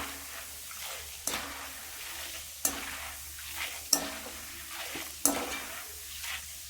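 A cornflakes snack mixture stirred and tossed in a frying pan on a home stove, soft continuous sizzling broken by four sharp scrapes of a spoon against the pan at regular intervals.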